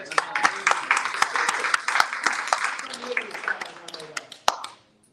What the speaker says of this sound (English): Round of applause for Nick's beard.